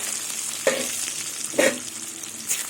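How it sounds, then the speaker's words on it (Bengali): Onions frying in hot oil in a pan just emptied of fried potatoes, a steady close sizzle broken by a few louder bursts as they are stirred. "এবার এই তেলের মধ্যে আমি পেঁয়াজ দিয়ে দেবো"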